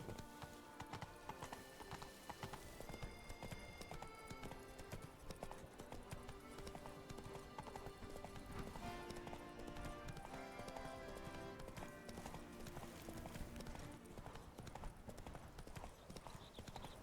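Roach, a horse in The Witcher 3: Blood and Wine, galloping with rapid rhythmic hoofbeats and an occasional whinny, faint within game sound and music.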